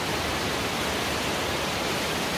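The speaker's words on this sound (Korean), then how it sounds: "저 아래에 폭포가, 진짜 오리지널 폭포가 또 있네요" A natural waterfall inside Hwanseongul limestone cave in Samcheok pours steadily, a dense even rush of water that holds a constant level without breaks or voices.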